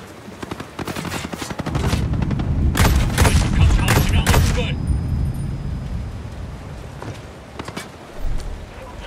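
Loud bursts of automatic gunfire from a Ghost Recon Breakpoint base-clearing fight, dense rattling volleys for several seconds that give way to a lingering rumble and a later thump.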